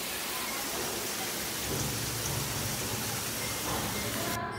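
Steady rain pouring down during a summer vacation day, a dense, even hiss that holds for several seconds with a slight swell partway through, no voices present.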